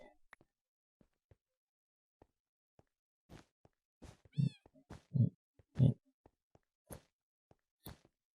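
A Minecraft cat gives several distinct meows in close succession, with soft taps and clicks scattered in between, heard alone against a quiet background.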